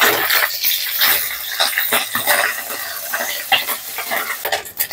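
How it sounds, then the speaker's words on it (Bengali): Small puti fish fry crisp in hot oil in a kadai, a dense, steady sizzle with crackling pops and occasional stirring scrapes, loud and close with no talking. "মাছগুলো ভালো করে মড়মড়ে করে ভেজে নেব।"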